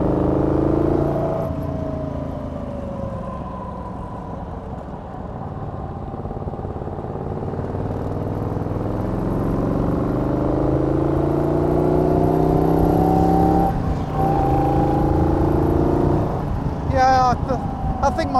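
A Morgan 3 Wheeler driving on a track, its engine note rising and falling through gear changes with a steady low drone and tyre noise, close and continuous, with occasional faint squeals near the end.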